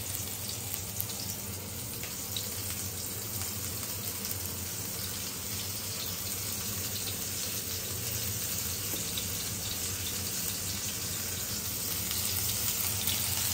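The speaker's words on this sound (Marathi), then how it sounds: "आपले असेच मस्त बोंबील फ्राय होतच राहतील" Bombay duck (bombil) fish coated in rice flour deep frying in hot oil, a soft continuous sizzle and crackle that stays faint and steady throughout.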